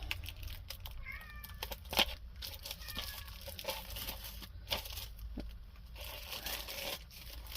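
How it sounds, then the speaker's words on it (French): A cat scratching and scraping at a door with faint meows, low steady background noise throughout. "c'est un de mes chats qui gratte à la porte parce qu'il veut revenir."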